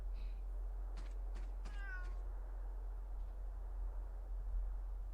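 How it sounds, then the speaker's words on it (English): A cat in the game Fantasian gives a short, clear meow near the middle, with a few soft clicks just before it, set against a steady low hum. "Oh, cat. Can we pet the cat?"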